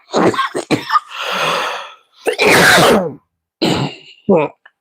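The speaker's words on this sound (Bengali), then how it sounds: "কাশিটা প্রচন্ড বেড়েছে" A person coughs hard several times in close, loud bursts, with rough throat-clearing and raspy breaths between the fits.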